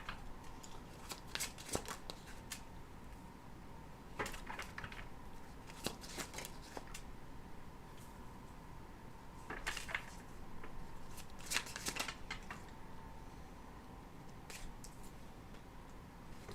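Tarot cards being shuffled by hand, soft riffles and crisp flicks in irregular bursts, faint and close with quiet gaps between.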